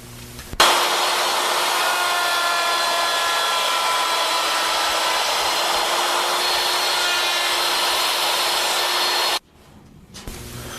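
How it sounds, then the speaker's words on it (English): A handheld wood router cuts a tenon in the end of a wooden sample piece, giving a loud, steady, high-pitched whine that runs continuously for about nine seconds before cutting off abruptly, with no talking. "Now, we'll cut a tenon on the opposite end of the sample with the new settings."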